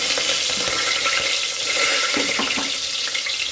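Curry leaves and asafoetida hit hot oil in a pan while tempering for a Gujarati bottle gourd curry, producing a loud, dense, continuous hiss and crackle at close range with no talk.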